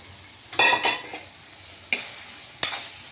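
Fried potato and pointed gourd hit hot spices in a pan, bursting into loud sizzling with sharp scraping stirs, then settling into softer frying hiss between brief clanks.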